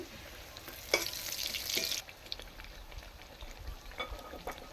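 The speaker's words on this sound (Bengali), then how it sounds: "একটু লাল লাল করে ভেজে নেব" Kochuri deep-frying in oil crackles and bubbles nearby, with a brief louder burst of sizzling and a few soft clinks of stirring, then settling into quieter intermittent popping.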